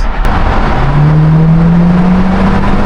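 A sports car driven through a Swiss road tunnel, its engine rising in a loud revving climb that rings with a rising tone over a heavy, echoing rumble.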